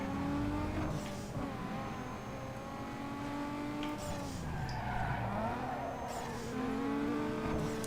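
An Infiniti's engine in Need for Speed Underground 2 races along a canyon road, its tone rising and falling with gear changes. Brief tire skids cut in over the loud, close, continuous revving.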